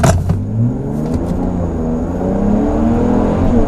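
A loud 2019 Nissan Patrol Gazelle engine with straight-through exhaust revs and drones in low range with a deep, throaty note, pitch rising and falling steadily throughout, close by.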